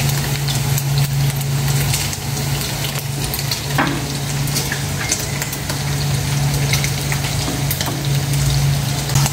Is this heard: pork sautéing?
yes